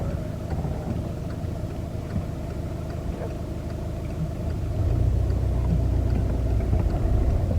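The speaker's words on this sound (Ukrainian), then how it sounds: "Давай, включай першу передачу. Ти на першій передачі, їдь помаленьку." A car's engine rumbles low and steady as it pulls away slowly in first gear, the drone thickening and growing louder about two thirds through, with no talk over it.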